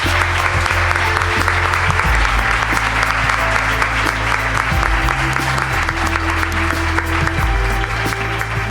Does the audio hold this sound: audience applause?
yes